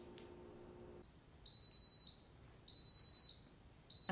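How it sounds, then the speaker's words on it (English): A pressure cooker timer beeps three times with a high electronic tone at regular intervals, each long and steady, against a quiet background after a brief hum. "hear that beep? That's telling me that the cooking time that I had set it for is over."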